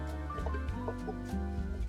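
Hens cluck and murmur in a steady stream of short calls over a busy background, fairly close and continuous without a break.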